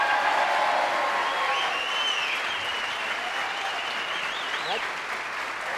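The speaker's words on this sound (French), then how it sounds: "attention, applaudissements, voici Patrice et Gisèle" A French television studio audience applauds the arrival of Patrice and Gisèle with continuous, even clapping, while a few faint voices and calls rise above it.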